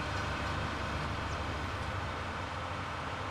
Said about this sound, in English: Train must have came through.